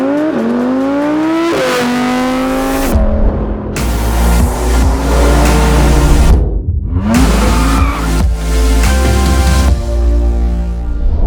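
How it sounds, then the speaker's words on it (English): An Audi R8 V10 Plus fitted with a Capristo exhaust revs hard and loud, rising and falling through several sharp throttle blips with brief gaps, close and with no talking. "we made it sound like a true supercar with Capristo exhaust"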